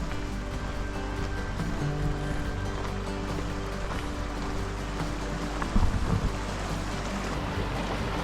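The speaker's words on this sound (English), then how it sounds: "we're coming up to our first little creek crossing" A small creek flows past at a hiking crossing on an Idaho valley floor, giving a steady, broad wash of moving water that is fairly faint and continuous, with no talking.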